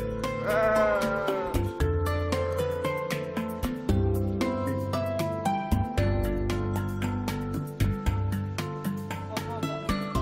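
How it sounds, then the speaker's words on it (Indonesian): A flock of sheep kept on a family farm in Serbia bleats loudly and close by, with wavering overlapping calls that follow one another almost without pause. "keluarga ini memelihara sekawanan domba"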